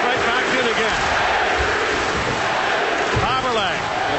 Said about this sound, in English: the crowd was chanting Avery